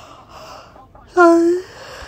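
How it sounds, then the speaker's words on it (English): A person yawns once, starting with a breathy intake that rises into a short voiced, tonal moan, which then cuts off quickly. "Another yawn."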